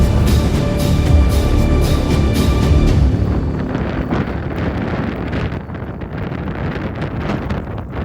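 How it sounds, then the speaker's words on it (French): Strong storm wind near Moreuil in northern France gusts hard against the microphone, a loud, roaring, buffeting rush that holds steady throughout and eases only slightly partway through, with no voices. "Le vent souffle encore bien fort là-dessous"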